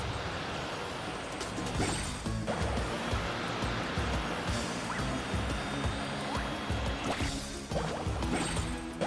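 Surf and splashing water rush continuously as a character carves across waves in Genshin Impact, with loud swelling crashes and hissing spray and no talk.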